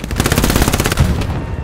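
Rapid automatic gunfire from the video game Hell Let Loose, loud close bursts of repeated shots that keep going for the whole stretch.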